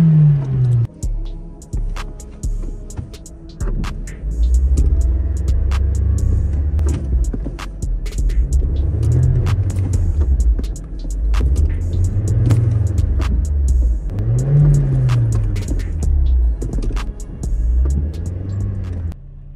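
A manual transmission car drives off, its engine revving up and dropping back in repeated cycles as it shifts through the gears. The motor stays loud and close, with no talking.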